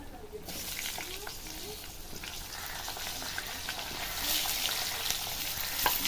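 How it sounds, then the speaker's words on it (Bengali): Potato pieces frying in hot oil, giving a continuous dense crackling sizzle that stays steady and close and swells slightly louder partway through. "যে শিম আর আলু কেটে রাখা হয়েছে, আলুগুলো প্রথমে ভেজে নেব।"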